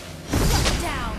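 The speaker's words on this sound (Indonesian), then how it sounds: "You destroy the turret." A turret is destroyed in the mobile game Mobile Legends, a short, loud, crashing burst with a shattering edge that swells quickly and then tails off into a sustained rumble.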